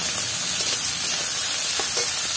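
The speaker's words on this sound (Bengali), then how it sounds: "এখন দিয়ে দিচ্ছি কাঁকড়া। হ্যাঁ এটাকেও ভালো করে নাড়াচাড়া নাড়াচাড়া নাড়াচাড়া করছি" Crab sizzles and fries in a pan as it is stirred, giving a steady broadband hiss with faint scraping touches, close and fairly quiet.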